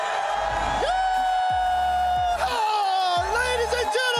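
Arena crowd at the Rocket League World Championship in Dickies Arena, a loud sustained roar of cheering and whooping layered under booming announcer-style tones and music hits.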